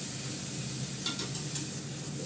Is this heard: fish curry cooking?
yes